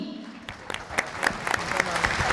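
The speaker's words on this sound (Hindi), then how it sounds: "आप सब लोगों की भरपूर तालियों में" An audience at a brand launch event at a Lahore hotel claps in a burst of applause that builds over a couple of seconds, with sharp individual claps standing out near the microphone.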